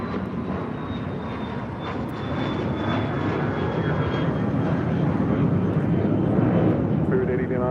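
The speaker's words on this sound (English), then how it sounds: "Cessna to Citation Latitude is taking off to Monterey" Cessna Citation Latitude business jet taking off at LAX, a broad roaring engine rumble that builds steadily louder over several seconds, with a faint high whine riding above it.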